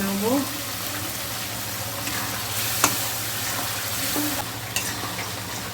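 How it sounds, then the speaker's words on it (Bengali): Potatoes frying and being stirred into spice paste in a pan for a Bengali fish curry with brinjal and lentil dumplings, a steady close sizzle with occasional scraping stirs and a low background hum. "এবার আমি আলুগুলো দিয়ে দেবো মশলার মধ্যে দিয়ে ভালো করে কষে"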